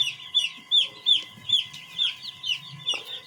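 Newly delivered chicks from a poultry supplier make a rapid string of high, bright peeps close by, with a low background hum and a faint knock near the end.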